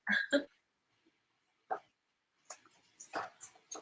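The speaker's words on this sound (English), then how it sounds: "That is my dog." A nearby dog gives a couple of sharp barks, then after a pause a few soft whimpers and yips follow.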